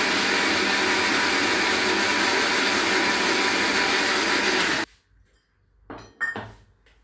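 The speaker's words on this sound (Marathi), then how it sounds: "मिक्सर परत फिरवते" A kitchen mixer grinder whirs loudly and steadily while blending coconut, garlic and a splash of water for solkadhi. After about five seconds it cuts off abruptly, leaving quiet broken by a few short clatters of the jar and lid.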